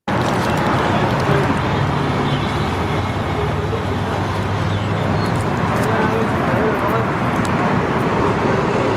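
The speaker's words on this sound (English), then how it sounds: "goddamn the sound of Chicago. Those truck sounds never go away." Chicago street traffic with trucks rumbling by, a steady loud roadway wash that never lets up, with a voice speaking faintly over the din.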